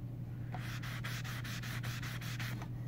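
Scrubbing an Umarex Legends M1A1 replica rifle to weather its shiny factory paint: about a dozen quick rhythmic abrasive strokes, close and steady, with no talking.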